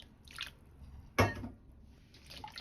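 Oyster mushrooms dropped into a basin of lightly salted soaking water, a single soft splash with brief watery sloshing around it, close and fairly quiet.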